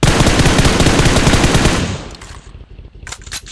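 Rapid gunfire in a dense, loud burst of automatic shots for nearly two seconds, then fading into scattered fainter noise and a few sharp reports.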